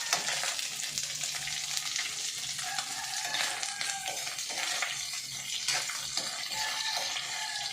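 Fish fries in a pan of hot oil, producing a continuous bright sizzle and crackle that holds steady throughout, close by and with no voices.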